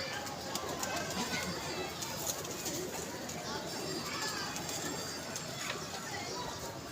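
Pigeons coo at a pigeon club, soft repeated low calls mixed into busy outdoor noise, with people talking nearby.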